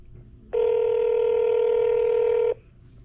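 An outgoing phone call ringing out in one steady electronic ring tone of about two seconds, loud and close, with quiet background before and after.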